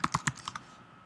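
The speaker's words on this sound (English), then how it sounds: "I just type in like AMP Futures" Quick burst of about six crisp keystrokes on a computer keyboard while typing into a browser address bar, close and fairly loud, then fading to quiet room tone.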